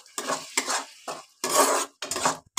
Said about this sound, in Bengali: এবার মশলাটাকে আর একটু কষিয়ে নেব।